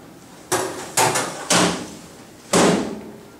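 Front door of an Insinger Commander 18-6 dishwasher being shut, a series of four distinct metallic thuds and clunks at close range, each followed by a short ringing decay, with no talking.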